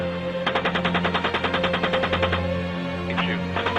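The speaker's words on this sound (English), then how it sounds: "Keep shooting." A long sustained burst of machine gun fire from a helicopter, evenly spaced rapid shots over a constant low rotor hum, pausing briefly before a few more rounds.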